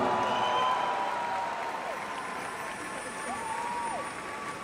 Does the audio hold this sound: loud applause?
yes